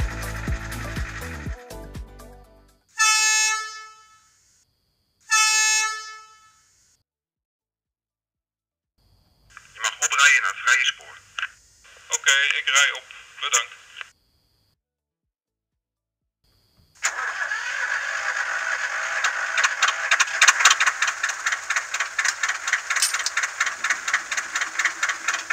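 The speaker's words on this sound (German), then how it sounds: "Letztere tragen das Pico Train Sound on Board und versprechen ein vorbildgetreues Sounderlebnis auf der" Onboard sound module of a PIKO N-scale Rh 600 diesel locomotive model: short mechanical bursts and clicks, then a sustained diesel engine idle that starts up and runs loud and steady to the end.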